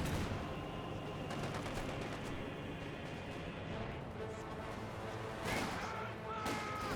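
Artillery barrage and battle gunfire in the WWII strategy game Company of Heroes 2, a dense continuous wash of distant blasts and crackling shots with a louder impact near the end, under faint voices.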